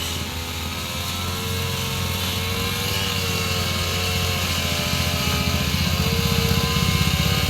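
A grass cutter runs along a village roadside on a rainy day, its engine a steady, continuous drone that builds slightly louder throughout, with no talking.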